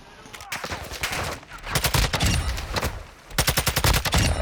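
Gunfire in the Call of Duty DMZ mode, rapid volleys of close automatic shots in two dense clusters with scattered single cracks between them, loud and continuous.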